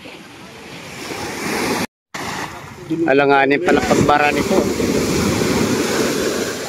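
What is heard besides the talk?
ocean waves crashing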